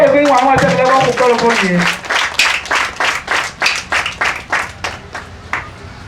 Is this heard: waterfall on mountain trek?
no